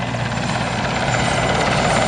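Firefighting helicopter lining up for a water drop at the Batajnica airfield open day in 2015, a loud, continuous rotor thrum and engine whine close by for the whole moment.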